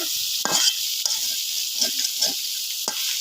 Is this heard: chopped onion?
yes